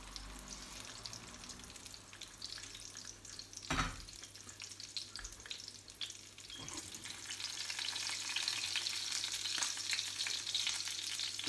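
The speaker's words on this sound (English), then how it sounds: "Okay, that's slightly sizzling." Spicy bean burgers fry in hot oil in a pan with a steady broadband sizzle that thickens and grows louder toward the end, broken by a sharp clatter near four seconds and a softer knock later; no one speaks.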